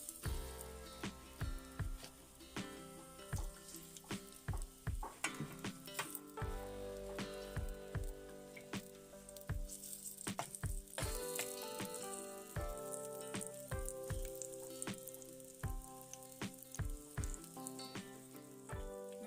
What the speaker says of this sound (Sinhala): මේ ලුණු ටික විනාඩියක් විතර තෙලේ මේ විදිහට බෙදෙන්න දුන්නා